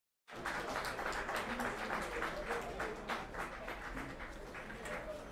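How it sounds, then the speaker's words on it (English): An audience applauds steadily at a sports medal ceremony, the clapping starting suddenly and holding as a dense, even patter, with faint talk beneath. "Let's clap for them once again."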